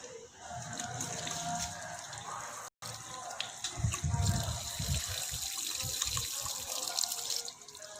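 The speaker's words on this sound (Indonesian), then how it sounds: "Cuci tangan dengan cara 6 langkah dengan sabun dan air mengalir." Hands being washed with soap under a steadily running tap, water splashing and trickling continuously into a sink nearby, with brief rubbing and dripping sounds and a short gap midway.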